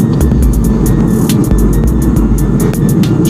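An FK2 Honda Civic Type R takes a corner at low speed, its engine and road noise a loud, steady rumble from inside the cabin with faint ticks over it.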